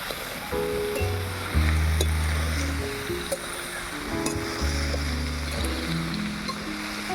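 Bottle gourd sautés in a pan with a soft, steady sizzle and occasional stirring clicks, partly masked by louder background music with a low melodic line.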